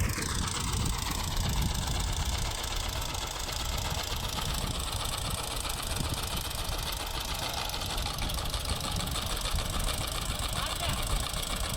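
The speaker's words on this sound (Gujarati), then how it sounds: "ટ્રેક્ટર લઈને આવી ગયો હે ભાઈ ચલાવી દઈએ" An old tractor's engine runs steadily for the whole stretch, a continuous loud low rumble with a constant mechanical drone and no pauses.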